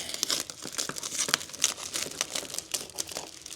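Thin plastic window insulation film crinkles and tears in close, busy bursts as it is handled and cut at a window, with no voices.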